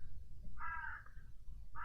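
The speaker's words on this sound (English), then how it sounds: "crow" A crow caws once clearly at mid-distance over a low rumbling background, and a second caw starts just as the sound ends.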